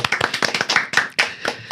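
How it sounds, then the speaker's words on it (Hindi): Applause from a small group welcomes a guest on an FM radio show, quick uneven claps in a short burst that keeps a lively rhythm and then thins out, with no voices over it. "एक बार जोरदार ताली होनी चाहिए फॉर कमाल"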